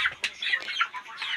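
A chicken clucks in a short series of quick, nasal calls, fairly close and moderately loud against a quiet background.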